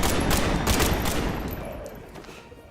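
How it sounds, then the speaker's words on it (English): Sustained rapid gunfire as guns are emptied into an enemy during Marvel's Midnight Suns combat, a loud dense burst of overlapping shots that gradually tapers off over a few seconds. "It was just empty guns into her"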